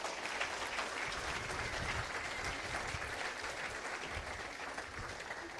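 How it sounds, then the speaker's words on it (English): Audience applause at the ICSA college sailing national championship awards ceremony, heard as a steady, fairly faint and distant patter of clapping from a crowd that holds evenly throughout. "we just want to give a big round of applause to them for continuing to support college sailing"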